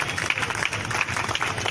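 Dense applause from an audience at a yoga teachers' honouring ceremony, steady clapping that continues evenly throughout, fairly close and moderately loud.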